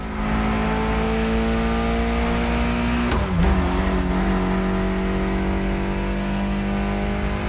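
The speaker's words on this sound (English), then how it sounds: "Mitsubishi gave us a nice inline four-cylinder with already 280 horsepower that are gonna turn up a bit" A Mitsubishi inline four-cylinder of about 280 horsepower in The Crew Motorfest drones at a loud, steady pitch, briefly dipping and surging midway as it revs, then settling back into a constant engine hum.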